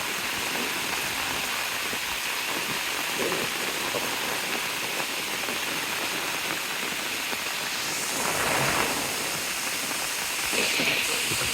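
Heavy rain pours in a continuous broad hiss, steady and fairly loud, with a couple of brief swells of stronger downpour near the end.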